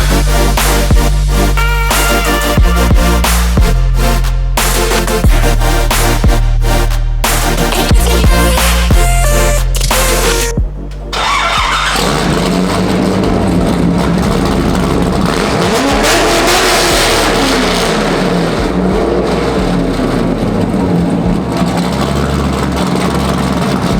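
Chevrolet Corvette Z06 with a straight-piped exhaust, loud and close, revving hard in repeated sharp blips and roaring bursts, then settling into a rough, rumbling idle with occasional swells.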